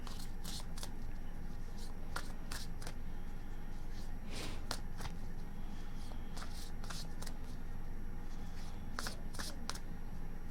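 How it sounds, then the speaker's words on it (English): Quick rustling riffles of tarot cards being shuffled in repeated bursts, close and fairly soft against a quiet background. "Last shuffle."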